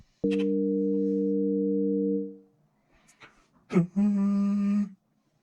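A smooth synth chord holds for about two seconds and fades, followed by a few short clicks and then a brighter, buzzier sustained synth tone.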